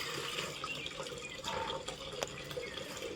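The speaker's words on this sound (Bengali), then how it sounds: "জল পড়ছে, খাওয়ার জল হয়ে গেল" Tap water runs steadily into a container for drinking water at home, a continuous close splashing and filling sound with no voices.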